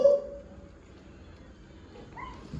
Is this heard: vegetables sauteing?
no